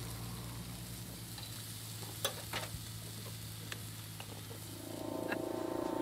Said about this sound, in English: At the moment I've got my onions going